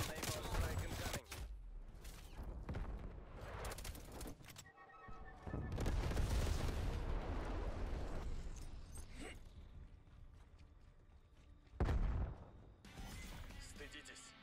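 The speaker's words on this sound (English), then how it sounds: "Naval strike incoming." Explosions from a naval strike in a military shooter video game, several heavy booming blasts and crashing bursts spread irregularly across the stretch, mixed with gunfire and game voice lines.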